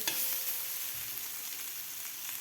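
Green chilies and masala frying together in a pan for spicy masala mirchi, giving a steady, close sizzling hiss throughout with no voices.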